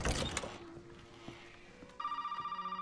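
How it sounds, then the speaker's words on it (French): A telephone rings in the Resident Evil video game, a repeated electronic trill that begins partway through after some soft mechanical clicks and continues steadily to the end. "Téléphone."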